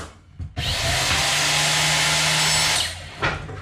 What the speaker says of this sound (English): This is a custom little saw.